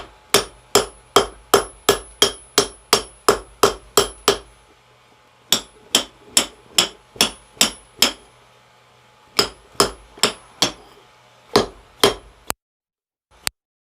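Hammer blows ring on hot metal being forged into a grappling hook, quick, regular bursts, a dozen strikes, a pause, then more sets of ringing clangs close up.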